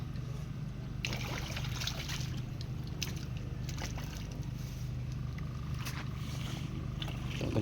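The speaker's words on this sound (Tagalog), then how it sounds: "So ganito kalakas ang tubig naming pangdilig sa talong." A garden hose pours a steady, strong stream of water onto eggplant plants in a hot farm field, a continuous close rushing with faint splashing and occasional thuds.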